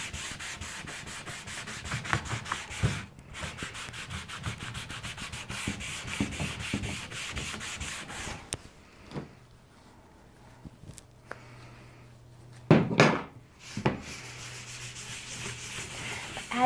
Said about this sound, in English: it's like you're buffing it and applying it at the same time